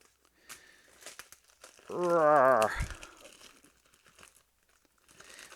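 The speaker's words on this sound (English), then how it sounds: "let's go ahead and try and open this up" Plastic packaging on a WWF Warzone wrestling toy crinkles and tears in short bursts up close, with a strained, drawn-out vocal grunt in the middle of the effort.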